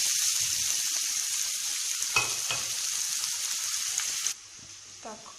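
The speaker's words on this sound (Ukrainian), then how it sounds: "І поки піджарюється цибуля" Onions frying in a pan for sausage soup, a steady, loud broadband sizzle that runs continuously, with a few soft clinks of stirring near the middle and a sudden drop in level toward the end.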